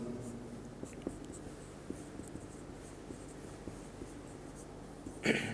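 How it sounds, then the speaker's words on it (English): Chalk or marker writing on a board during a physics lecture on the photoelectric effect: steady scratchy strokes and light taps run throughout at moderate level, with a slightly louder knock near the end and no talking. "let me write that down as well"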